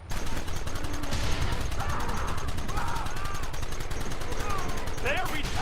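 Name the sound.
gunfire in a firefight, from the video game Red Dead Redemption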